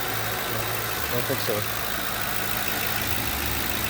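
A 2009 Ford Crown Victoria Police Interceptor idles with a smooth, steady low rumble close by, while someone speaks briefly over it.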